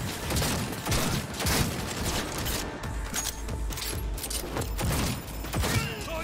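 Rapid bursts of gunfire from the Cyberpunk 2077 video game crackle repeatedly through a busy, fairly loud mix of mechanical clatter and game effects, with no clear speech.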